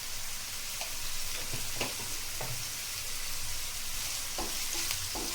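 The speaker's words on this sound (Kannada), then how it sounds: "ಇದನ್ನು ಚೆನ್ನಾಗಿ ಫ್ರೈ ಮಾಡ್ಕೋಬೇಕು. ಈಗ 1 ಟೇಬಲ್ ಸ್ಪೂನ್ ಜೀರಿಗೆ ಹಾಕೊಳ್ತಾ ಇದ್ದೀನಿ." Cumin seeds frying in hot oil in a pan for a boiled egg fry, a steady close sizzle with occasional crackles and pops and faint stirring taps, with no voices.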